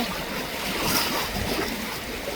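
Passenger launch on the rough Meghna river, a dense continuous wash of choppy waves and wind rushing past, loud and steady with no distinct breaks.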